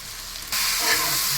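Bombay duck chutney stirred with chili masala in a pan, quiet at first, then a sudden, steady loud sizzle that holds to the end with no voices.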